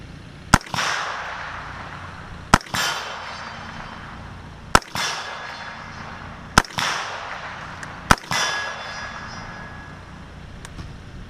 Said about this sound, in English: Today I'm going to be testing my 300 blackout with 150 grain round nose Hornady bullets.